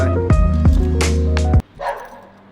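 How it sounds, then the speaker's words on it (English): A dog barks several times in quick, loud, close bursts, then goes quiet, followed by a softer whimpering yip. "Every day, dogs barking."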